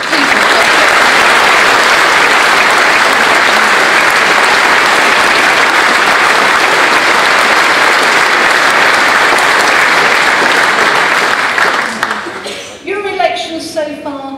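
Sustained, loud applause from a conference audience at a UKIP Eastbourne South East gathering, a dense wash of clapping that fades out near the end as a speaker's voice comes in.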